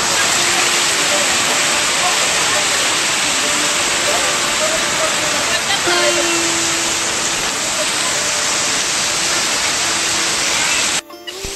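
Water rushes straight into the Dhareshwar Shiva temple at Patan as a loud, close, steady roar that runs unbroken until a sudden cut near the end.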